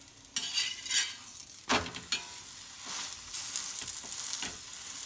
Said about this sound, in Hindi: हम सेक लेंगे पराठा को।